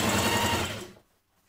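A sewing machine stitches a small hem along the bottom of a ladies' shirt, running loud and steady with a dense mechanical whir, then stopping abruptly into near silence.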